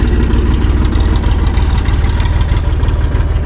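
A low, steady engine idles close by, a continuous rumbling chug with a regular throbbing pulse and no voices.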